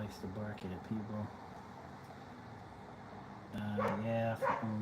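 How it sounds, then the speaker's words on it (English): A neighbor's dog barks and yips in short bursts, a pair early on and louder barking near the end, over a steady background hum. "Boy, that neighbor dog, he really likes to bark at people."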